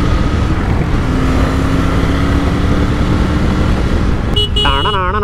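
A Triumph Tiger 900 motorcycle riding toward mountains, heard as a constant loud roar of engine and rushing wind, with a brief tonal sound breaking through near the end.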